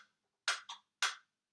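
Metronome set to 108 beats per minute: three crisp, close clicks, the second softer, ringing briefly in a quiet room with nothing else heard.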